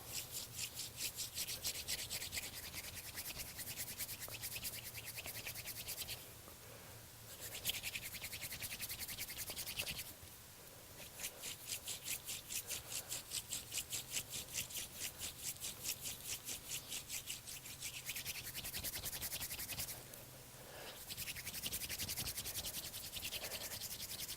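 A wooden hand-drill spindle spins against a fireboard for friction fire under firm downward pressure, a loud close rhythmic rubbing and rasping in long runs broken by brief pauses.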